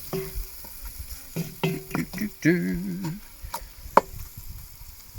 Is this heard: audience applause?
no